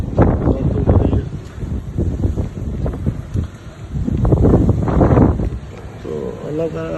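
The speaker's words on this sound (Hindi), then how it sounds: "बारिश भी तेज, आंधी तेज, बहुत तेज हवा चल रही है" Strong stormy wind gusts roar loudly into the microphone during heavy rain, swelling and fading in long surges with buffeting rumble throughout.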